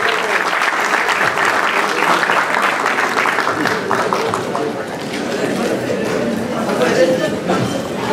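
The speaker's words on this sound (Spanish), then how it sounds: "Fuertes aplausos para don Jaime Diego Almeida" A crowd at a congressional recognition ceremony in Chincha applauds Jaime Diego Almeida Atunca, a local athlete: loud, continuous clapping with some crowd noise mixed in, lasting throughout.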